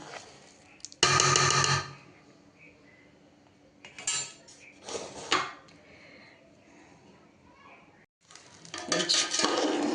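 Ingredients for egg pulao are stirred in a pan, with loud bursts of metal utensil scraping and clatter against the pan between quieter stretches, and a voice speaking in between.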